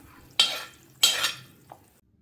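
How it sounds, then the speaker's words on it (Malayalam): Boiled coconut oil being strained and scooped from a pot, heard as two close metallic scrapes of a ladle against the vessel, each trailing off, followed by a faint small clink. "ഈ വെളിച്ചെണ്ണ ഒക്കെ നമുക്ക് അരിച്ച് കോരിയെടുക്കണം"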